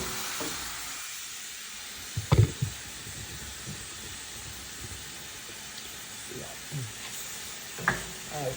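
Shrimp cooking in oil and butter for shrimp and sausage pasta, a soft continuous hiss of frying with a few brief clatters of a utensil against the pan.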